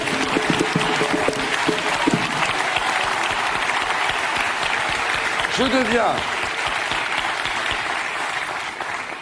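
An audience claps steadily and warmly for President Abdou Diouf at a 2009 French-language event in Tunisia, a dense wash of applause that continues throughout while someone speaks over it.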